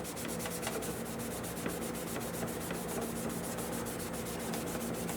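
Steady rhythmic rubbing of an abrasive cloth across a guitar's finish, a hand-polishing stroke repeated in quick even passes; close, soft and dry with a faint grinding hiss and no talk.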